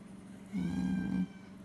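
A pet cat lets out a single clear, drawn-out meow close by in a quiet indoor room, lasting under a second with no talking over it.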